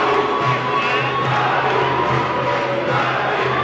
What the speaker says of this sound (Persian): کرمی رو تشویق میکنن